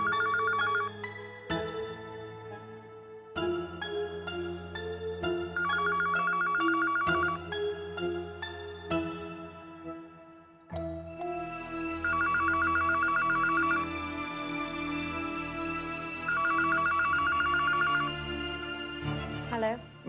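A house telephone rings repeatedly in an electronic ringtone pattern, with repeated trilling bursts, loud and close, alongside tonal melodic background music.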